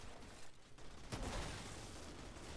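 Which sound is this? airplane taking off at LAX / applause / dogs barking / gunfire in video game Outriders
gunfire in video game Outriders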